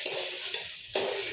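Vegetables frying in oil in a pan, with a steady close sizzle and short bursts of stirring that pause briefly before the hiss returns.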